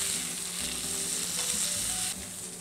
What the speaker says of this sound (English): Now we're gonna cook the skin side for about 2 minutes to blister it.